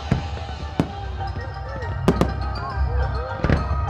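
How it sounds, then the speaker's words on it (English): A fireworks display explodes nearby at night: sharp scattered bangs and pops, several loud cracks bunched together, over a crowd murmuring and talking. "Fireworks display is unbelievable."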